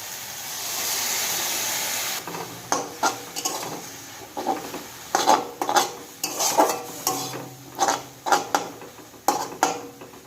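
Leafy greens with green chilli fry in a pan as a rice flour paste is stirred in, a soft sizzle broken by repeated scraping and clattering strokes of a spatula against the pan.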